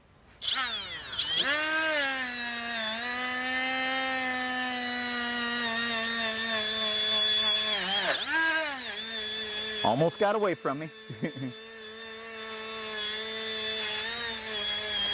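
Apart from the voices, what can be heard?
Milwaukee M12 die grinder running and bogging down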